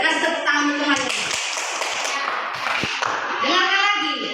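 In a fifth-grade coding class in Indonesia, children clap their hands together in a dense, continuous patter of applause. Young voices mix in with the clapping.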